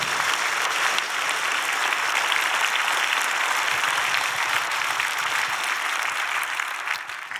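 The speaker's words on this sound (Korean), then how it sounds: "우리 교회 얘기하니까 박수를 그렇게 세게 치세요" A church congregation claps loudly and steadily during a dedication and ordination service, a dense, sustained wash of applause that holds for several seconds before easing slightly at the end.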